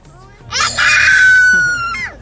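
Birds at a mall in Australia calling out loudly and close by, a shrill, rising squawk that holds for over a second before tailing off, with a voice nearby.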